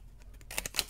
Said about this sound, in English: for the sake of this video, we're just gonna use our scissors.